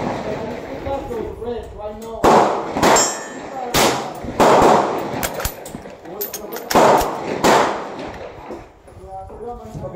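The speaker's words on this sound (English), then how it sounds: "It's a heavy, heavy rifle. And that's a squib." Squib load fired from an 1887 Italian Vetterli rifle chambered in 6.5 Carcano, heard as several loud, sharp reports outdoors with clattering and talk around them.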